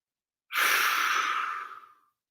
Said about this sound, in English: Breathing in, open mouth, exhale.